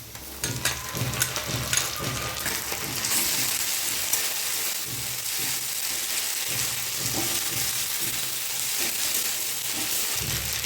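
Ginger-garlic paste sizzling and frying in a pan with onion for a Bengali potol chingri curry, a steady close hiss with occasional stirring scrapes and no talk.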